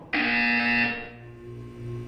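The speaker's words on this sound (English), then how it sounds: "When you hear the buzzer, look down at the floor." A loud electronic buzzer from the video game Portal 2 sounds once for just under a second, a harsh steady tone that cuts off and leaves a fading hum, with no talking.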